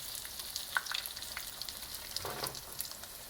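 Eggplant slices fry in hot oil with a close, crackling sizzle that surges briefly as more slices go in, with no talking.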